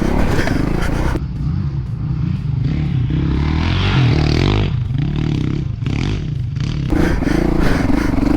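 A 2019 Honda CRF450 dirt bike engine revving and labouring over rough ground, pitch rising and falling with throttle, plus clattering and scraping from the trail, loud and close.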